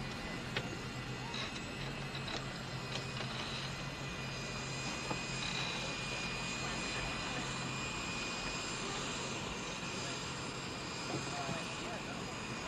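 Steady airplane engine drone fills a passenger cabin during flight, a continuous broadband hum with a faint tonal whine, running unbroken beneath nearby voices.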